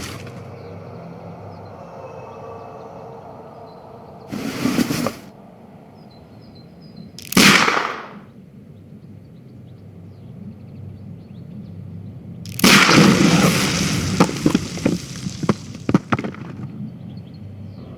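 Pistol shot at a package followed by a dynamite explosion in the Sherlock Holmes: Crimes & Punishments video game, two short bursts then a long, loud crackling blast.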